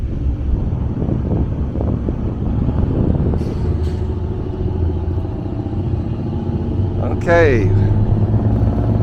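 A ferry boat motor on the Mississippi River rumbles steadily and loudly with wind buffeting the microphone; a voice speaks briefly and the motor swells as it revs up near the end.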